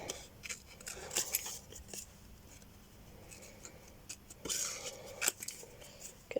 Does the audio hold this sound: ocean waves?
no